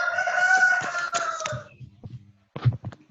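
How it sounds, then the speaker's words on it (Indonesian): A rooster crows loudly and fairly close, one drawn-out cock-a-doodle-doo lasting about a second and a half, followed by a few faint clucks and soft knocks in an otherwise quiet room. "Ayam siapa yang bunyi itu?"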